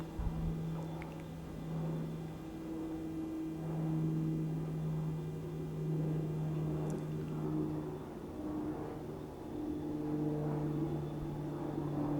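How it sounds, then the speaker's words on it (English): A low, steady engine drone from an airplane passing over an outdoor spot in Nairobi, a continuous hum with a faint rise and fall that sits at a moderate distance across the whole stretch. "There's another plane."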